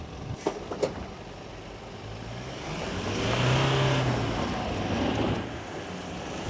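Out in the open, a Toyota Hilux pickup drags a Unimog, giving a distant, steady engine drone that swells and strains for a few seconds against wind noise, after two faint knocks.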